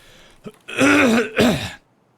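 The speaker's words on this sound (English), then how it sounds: "I was just clearing my throat." A person clears their throat twice in quick succession, close up and rough, followed by silence.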